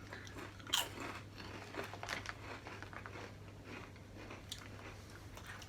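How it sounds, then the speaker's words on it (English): Japanese snack chips crunch under quiet bites, with one sharper crack early on and then softer chewing crunches over a low steady background hum. "Has a good crunch."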